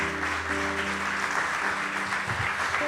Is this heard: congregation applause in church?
yes